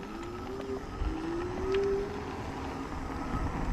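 HOVSCO A5 Mountain Cruiser eBike motor gives a thin rising whine as pedal assist engages, a faint tone climbing over tyre and wind rumble on a steady ride.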